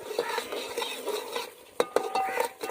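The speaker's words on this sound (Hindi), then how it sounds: "मसालों की भुनाई अच्छी सी कर लेंगे हम ताकि मसालों का कच्चापन ख़त्म हो जाए" Spices stir-roasting in a pan over a wood fire for chana chaat, with a low sizzle beneath repeated scraping strokes and a few sharp metallic clinks of the spoon against the pan.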